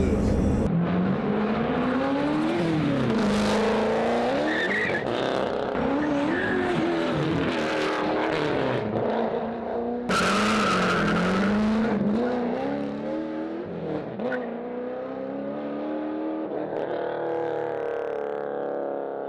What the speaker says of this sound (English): so that is the Tantrum Charger from the guys at Speedcore